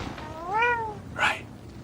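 A cat gives a clear, close meow with a rising then falling pitch, followed a moment later by a shorter, breathier second call, with no talking.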